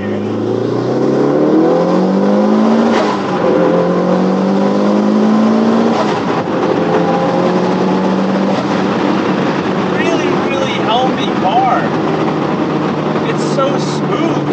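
A Mitsubishi Evo 8 RS engine revs hard through an acceleration pull, its pitch climbing steadily, dropping at each gear shift and climbing again, loud and close inside the car.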